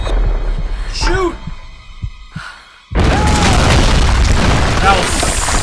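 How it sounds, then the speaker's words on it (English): Grenade launcher blast in the Tomb Raider video game, where quieter game sounds and voices are cut by a sudden loud, booming explosion that sustains as a dense roar for several seconds. "We got a freaking grenade launcher."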